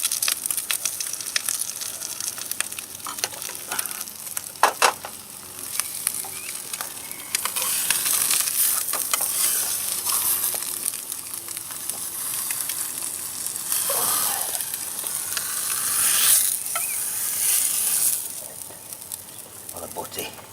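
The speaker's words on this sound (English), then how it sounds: "Stop for a bit of breakfast. Bean sausages and fried egg." Bean sausages and fried eggs sizzle in a pan during an outdoor hunting breakfast, a continuous close crackling hiss with occasional scraping and stirring clatters.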